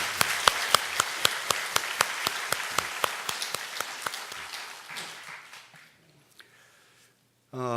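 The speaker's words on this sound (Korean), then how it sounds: "우리 인사할 때 박수로 격려하겠습니다." A church congregation claps in a fairly synchronized rhythm to welcome missionaries, the sharp beats gradually thinning and fading out into near silence.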